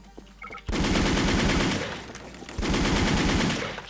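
Loud rapid automatic gunfire from the online shooter Wolfteam comes in two sustained bursts, close and dense, after a brief quiet start.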